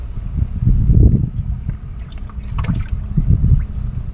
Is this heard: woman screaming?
no